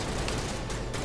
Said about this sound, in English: I shot first